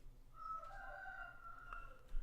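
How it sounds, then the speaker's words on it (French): A rooster crows once, faint and distant, its drawn-out call rising and fading over a quiet background with no voices. "Et vous avez le coq qui chante en prime."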